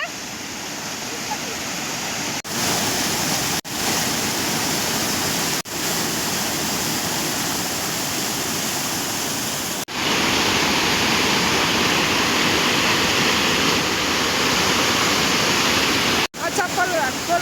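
Steady, loud roar of the Mailung waterfall, a broad continuous rush of falling water filling the whole clip, with a few brief sharp dropouts along the way.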